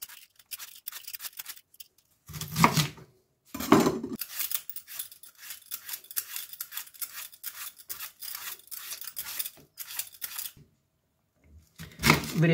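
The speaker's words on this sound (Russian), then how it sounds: "Так как у меня дома нету слайсера, чтобы нарезать фенхель очень тонко, я воспользуюсь экономкой." Fennel bulb being shaved into very thin slices with a vegetable peeler at home: repeated short scraping, rasping strokes, fairly close, in bursts with brief pauses and no talk.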